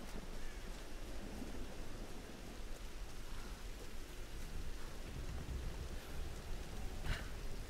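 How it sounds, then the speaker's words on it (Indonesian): Steady, soft rain hiss fills a Tomb Raider game scene, with a faint low rumble of distant thunder building underneath and a brief crackle near the end. "Petir sangat kencang, Bung."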